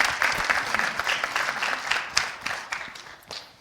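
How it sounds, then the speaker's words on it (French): Audience applause for married couples at a Valentine's Day event, a moderate burst of clapping that swells and thins with scattered individual claps near the end. "On peut applaudir pour eux."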